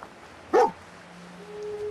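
A single dog bark rings out in Fallout 4, sharp and fairly close, followed by quiet game ambience.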